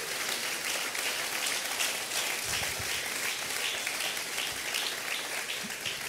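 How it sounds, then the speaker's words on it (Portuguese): A church congregation applauding Jesus during a sermon: a soft, steady patter of many hands clapping, sustained evenly from start to finish with no speech over it. "Você pode aplaudir a Jesus?"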